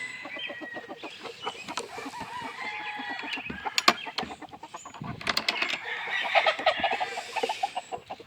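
An original hen and one of her rooster sons cluck and chatter in a brood pen, a busy run of close, repeated calls with sharper squawks scattered throughout.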